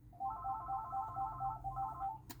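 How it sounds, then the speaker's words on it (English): A mobile phone ringtone chimes in a quick repeating melodic pattern, clear and fairly close, playing on its own for a couple of seconds before cutting off. "One moment, my phone's going."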